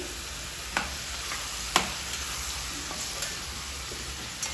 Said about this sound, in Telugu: దీంట్లోనైతే కట్ చేసి పెట్టుకున్న టమాటాలు కూడా వేసుకొని కలుపుకోవాలి